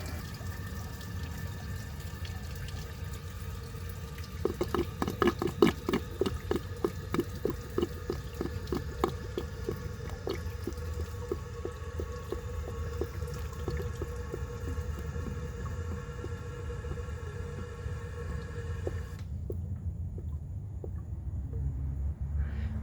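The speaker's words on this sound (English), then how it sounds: "I just turned the pipe upright, so it's draining very slowly and it will have a nice gurgle at the end." A 1930 Eljer Sanus toilet drains slowly through a partially clogged, upright pipe, with steady running water and a burst of rhythmic gurgling glugs midway before the flow suddenly cuts off, leaving a low background hum.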